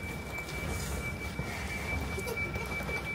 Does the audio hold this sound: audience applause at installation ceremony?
no